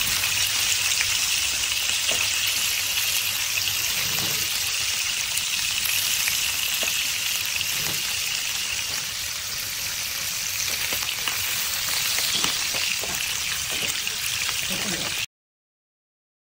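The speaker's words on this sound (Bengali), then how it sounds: "আমার মাছটার 2 পিঠই ভালোভাবে ভাজা হয়ে গেছে" Hilsa fish pieces frying in a pan, a dense, loud, continuous hiss of hot oil heard close up without a break, ending abruptly in silence.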